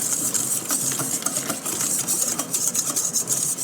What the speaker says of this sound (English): Now we're gonna go ahead and give it a good whisk.